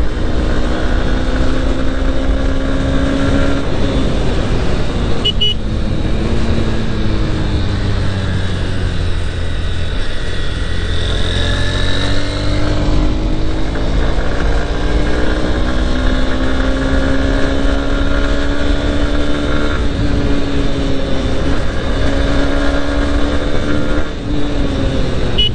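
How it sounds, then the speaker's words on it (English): A Honda Hornet 2.0 motorcycle engine gives a steady, loud induction roar while riding, its pitch rising and falling with throttle changes under constant wind rush. "Really like the sound that's coming out from the engine, that induction roar"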